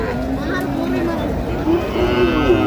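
Several loud moos from Sahiwal bulls, drawn-out and close, against the murmur of a busy livestock market.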